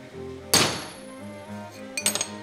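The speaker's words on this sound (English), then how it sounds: "The center punch makes it easy to drill the hole where I want it." A single sharp metallic strike of a hammer on a center punch rings out, followed a moment later by a few quick lighter taps over a quiet background hum.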